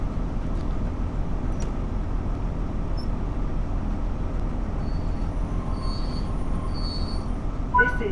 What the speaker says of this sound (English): Off goes the 72 stock, can hear it whirring away.